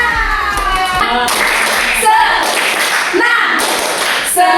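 Hands clap together in the 'tepuk senang' routine, a group producing brisk rhythmic claps that are loud and near, clustered most clearly at the start, with chanting voices running on top.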